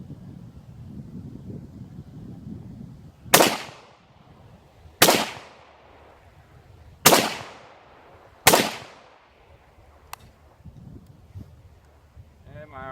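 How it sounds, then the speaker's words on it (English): Four sharp, loud AKML rifle shots fired at a target outdoors, spaced a second or two apart, each with a trailing echo decay, over light wind noise. "Fire a couple of rounds on a different target."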